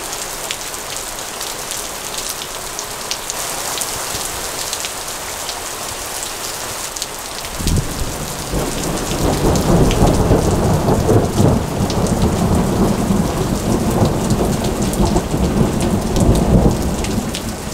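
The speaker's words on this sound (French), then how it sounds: "je peux pas dire que j'ai été surpris par la pluie" Heavy rain pours in the mountains, a dense steady hiss of drops on surfaces, while a deep thunder rumble rolls in partway through and swells the downpour into a loud, continuous roar.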